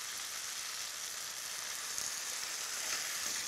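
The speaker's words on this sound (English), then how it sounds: "So we're going to add a half a cup of dry white wine." Half a cup of dry white wine sizzles in a hot frying pan, a steady, dense hiss of bubbling liquid that holds level and close throughout with no voices.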